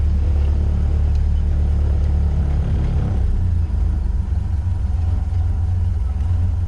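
A Ford Model A garage find idles low and steady at close range, a deep loping rumble running alone without talk and dipping slightly partway through.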